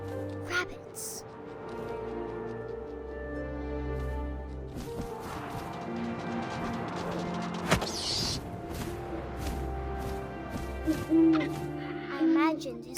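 Owl hoots ring out in What Remains of Edith Finch, set against a layered game soundtrack with steady ambient tones and occasional creaks, the hooting rising briefly near the end.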